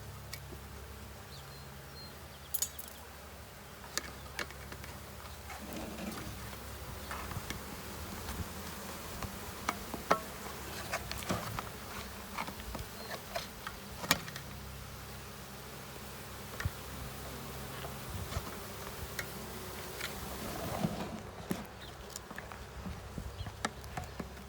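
A swarm of honey bees buzzing steadily during installation of a package of bees into a hive, a dense, continuous hum with scattered close wing buzzes and light rustling and knocks, without talk.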